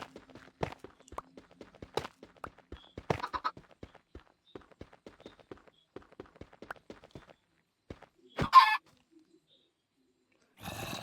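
A Minecraft chicken gives a few soft clucks among sparse blocky footstep clicks, with short quiet gaps and a brief louder burst near the end.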